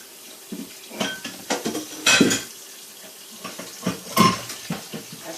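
Water from a kitchen tap runs into a cooking pot in bursts, with clanks of the pot and utensils against the sink, close by and with no talking.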